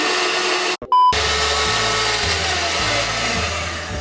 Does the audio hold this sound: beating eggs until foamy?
yes